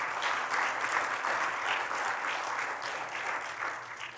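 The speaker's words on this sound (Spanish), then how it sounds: "Denle un aplauso fuerte." A church congregation claps loudly and steadily for several seconds at a Spanish-language sermon, a dense, continuous wash of applause with no one speaking over it.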